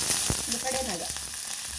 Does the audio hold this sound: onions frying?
yes